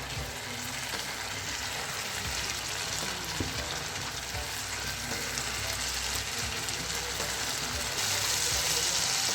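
Tomato masala for baingan bharta sizzles steadily in a pan over a medium flame, a continuous close frying hiss with occasional soft stirring scrapes and no talk.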